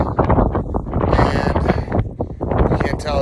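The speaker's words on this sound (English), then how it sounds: "It's windy as hell. It's cold wind" Cold, strong mountain wind buffets the microphone in gusty, uneven bursts, with someone talking over the rushing noise.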